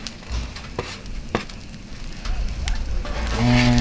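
Ground beef sizzles on a Blackstone griddle, a close crackling fry with scattered pops and scraping, building louder toward the end.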